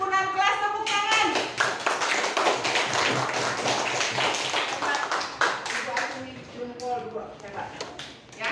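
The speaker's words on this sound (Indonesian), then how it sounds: "Tepuk tangan." A classroom of children breaks into rhythmic clapping, fast and steady, with young voices chattering and calling out over it; Indonesian classroom.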